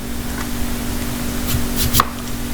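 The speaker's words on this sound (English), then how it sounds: "here I am cutting the green apples" A knife chops green apples into small pieces on a board, giving a few soft, close cuts with one sharper knock near the end, with no talking.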